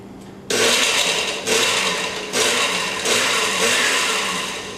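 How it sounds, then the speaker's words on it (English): A kitchen blender pulses garlic, sugar and lemon zest in short loud bursts of a few seconds each, close and continuous with brief dips between pulses, with no talking over it. "So everything's going to go into our blender."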